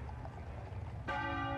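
A single church bell strikes once, loud and clear, during Queen Elizabeth II's funeral, ringing on with a sustained hum after a stretch of low outdoor background noise.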